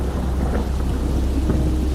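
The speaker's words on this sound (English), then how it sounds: "Thunder shook the mansion while rain slammed against the windows." A thunderstorm batters a mansion: heavy rain hisses steadily against the windows while low thunder rumbles continuously underneath, loud and enveloping.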